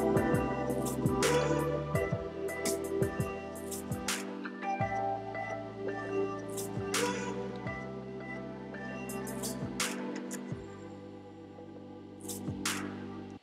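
Remixed music track full of abrupt edit cuts, the beat and tones chopping off and restarting at irregular points, at moderate level with no voices.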